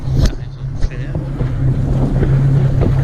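Steady wind roars across a lake beach, buffeting the microphone with a continuous low rumble and a few gusty bursts, loud and close.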